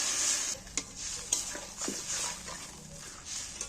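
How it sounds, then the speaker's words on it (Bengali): Water poured along the side of a pan of spiced fish curry with potatoes hisses in a faint sizzle, with a few clinks and scrapes of a stirring spoon and no voice. "এইবার আমি একটু জল দিয়ে দিচ্ছি সাইড দিয়ে"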